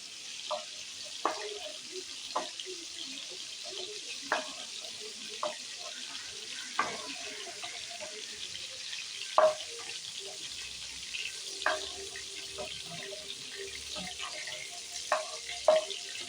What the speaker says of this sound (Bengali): চিংড়ি মাছগুলো হালকা করে ভেজে নিয়েছি